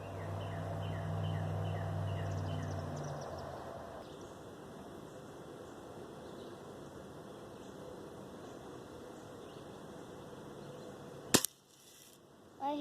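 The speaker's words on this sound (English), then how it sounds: "I'm gonna shoot an egg." A BB gun fires at an egg outdoors in a single sharp, close pop near the end, heard over steady background hiss and faint chirping birds.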